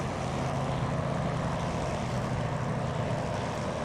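P-40F Warhawk engine at maximum power in a flight simulator, a steady loud propeller drone that holds constant throughout with no talk.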